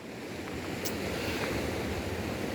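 Mighty South Atlantic Ocean surf at Misty Cliffs, Cape Town, on an evening: a steady, broad roar of breaking waves with wind buffeting, continuous and fairly loud throughout, no voices.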